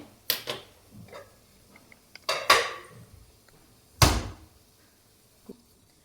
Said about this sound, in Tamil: அடுப்பத்தை வச்சுக்கலாம், அடிச்சட்டி வச்சுக்கலாம்.